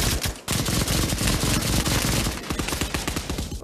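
A Bren light machine gun fires in rapid sustained bursts in the World War II section of the Pavlov shooter game, loud and close, with sharp repeated cracks and a brief pause near the start.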